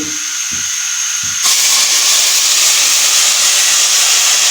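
Tomato paste dropped into hot, half-browned garlic ginger paste, bursting into a loud, steady hiss and sizzle that fills the rest of the clip after a few soft knocks.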